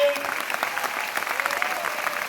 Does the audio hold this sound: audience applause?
yes